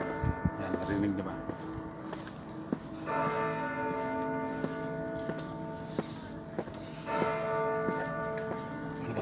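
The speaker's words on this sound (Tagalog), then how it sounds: "Tumunog na yung bell, alas 12 na." Noon bells of St. Colman's Cathedral in Ireland peal in two strong bursts of sustained ringing with rich overtones, heard outdoors amid street ambience and scattered footsteps.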